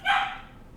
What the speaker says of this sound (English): Sorry about the dog again.